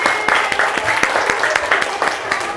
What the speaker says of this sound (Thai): ปรบมือให้เพื่อนแล้วครับ